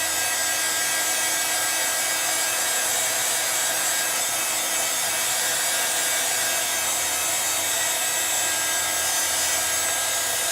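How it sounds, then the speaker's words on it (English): Heat tool blowing hot air to dry the textured background of a handmade vintage-style 7x7 card, a loud, continuous, steady whirring roar with no voices. "I'm just drying the background look, but I'm moving it away from my camera"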